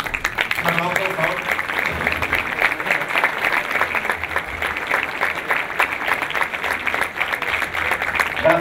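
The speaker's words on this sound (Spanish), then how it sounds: "Un aplauso, por favor." Audience applause at a stage presentation event, steady dense clapping filling the room for several seconds with some voices mixed in underneath.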